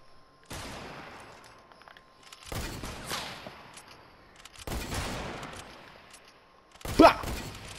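Fortnite gunfire in several loud bursts, each shot cracking out then trailing into a long echoing tail, spaced a couple of seconds apart, with a sharper hit near the end.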